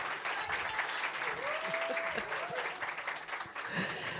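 Audience applause at an entrepreneurship panel talk, a dense, steady wash of clapping throughout, with faint voices and a brief tonal sound mixed into the crowd.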